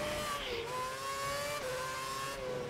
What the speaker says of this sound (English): Who's that coming out of the pits? Oh, it's a four-cylinder of Sutil